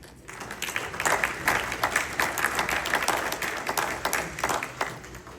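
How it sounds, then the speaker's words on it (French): A crowd applauding, many hands clapping in a dense, sustained burst that swells and continues throughout. "je vous demande de les applaudir"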